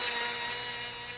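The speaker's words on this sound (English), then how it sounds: "I'm going to use a die grinder to cut a hole in the top of it next to an easy-to-see terminal" A die grinder cuts a hole into the top of a distributor cap on a 1967 Plymouth Barracuda, giving a steady, high-pitched whine up close with no pauses.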